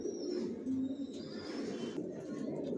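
Grizzle racing pigeons coo steadily in a loft, a low, continuous murmur of several birds close by, with faint higher chirps and a hint of a voice in the background.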